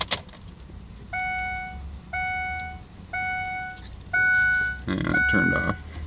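A Ford 6.0L diesel pickup's ignition key is switched on and off repeatedly while priming the fuel rails after a filter change. Four evenly spaced electronic dashboard chimes sound about a second apart, followed by some louder clattering noise, after keys jingle at the start.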